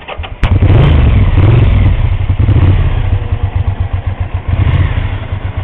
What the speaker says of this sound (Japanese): ならさっきエンジンかけますか。